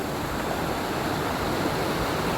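Adi Falls waterfall pours in a steady, dense rush of broadband water noise, continuous and fairly distant, with no voices over it.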